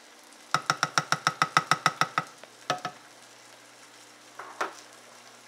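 Chicken cooking in a pan, with a fast, even run of about a dozen stirring scrapes and taps over a soft sizzle, then a few scattered knocks after a pause.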